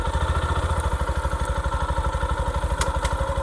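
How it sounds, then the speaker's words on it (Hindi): A 2023 Yamaha FZ-S motorcycle engine running close by, with a steady, rapid, even idle beat and a light mechanical clatter on top. "स्टार्ट कर लेते हैं बाइक को।"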